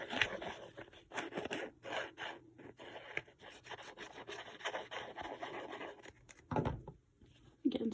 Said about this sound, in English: now we're going to do the rest of the inside of the toilet paper roll with the